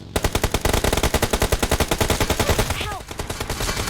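Rapid automatic gunfire in a battle royale game rattles out in a fast, even burst of close shots lasting several seconds, with a faint voice under it.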